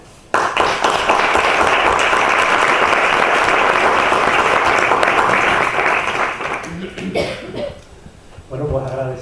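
Lecture audience at a conference in Seville's Círculo Mercantil breaks into sustained loud applause, steady clapping for several seconds that fades out, followed by a cough and a voice starting to speak.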